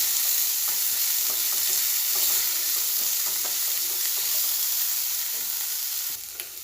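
Tomato and green chilli frying in oil for a prawn roast, a steady close sizzle with scattered soft stirring scrapes throughout, and no talking.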